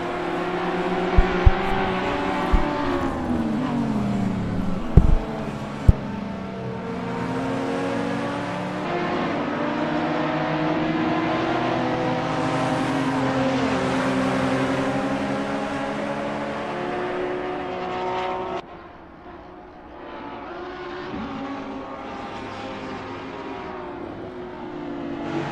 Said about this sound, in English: Brian goes wide and Max breezes by